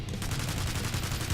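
Rapid gunfire from a Customizable Weaponry 2.0 gun in the Garry's Mod video game, dense overlapping shots in a steady, heavy burst that runs through the whole moment.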